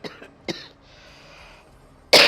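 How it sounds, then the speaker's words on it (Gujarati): A woman in a home kitchen gives two short coughs close up, then a quiet pause broken by a sudden loud burst at the end. "ઉધરસ પણ કેટલી કયાગરી છે જોવો ને."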